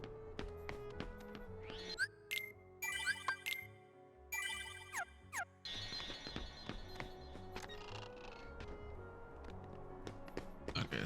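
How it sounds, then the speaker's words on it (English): Bright synthetic bell tones chime and jingle in repeated bursts over layered electronic music in Kingdom Hearts, a game-style ringing that keeps sounding throughout. "if that's what bell sounds like in video game world, I don't like them"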